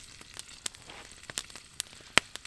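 Food sizzles in a rubber-handled frying pan set over a winter campfire, soft crackling with scattered sharp pops and spits, close by and fairly quiet, with no voices.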